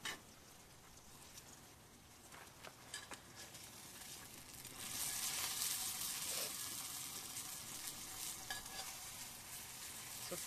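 Sizzling of pork frying in a hot cast iron pan over a campfire, quiet at first and then swelling louder midway, continuous with no voices.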